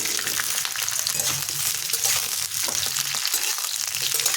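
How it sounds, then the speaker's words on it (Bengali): Cauliflower florets frying in hot oil give a dense, steady sizzle with soft crackling and occasional stirring sounds, close and continuous throughout. "এখন ওই তেলে ছেড়ে দিচ্ছি ফুলকপি।"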